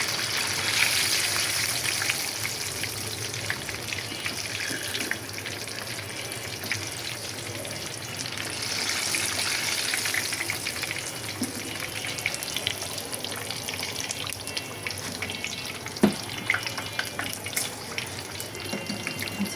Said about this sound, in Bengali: তো আমি এইভাবে করে বাকি দুইটাও ভেজে নিব